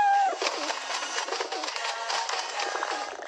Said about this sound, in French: Pierre, je te présente les pigeons.